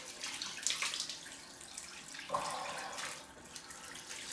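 Cold tap water runs steadily and fairly quietly into a sink as a face cloth is wet under it, with small splashes and shifts in the flow.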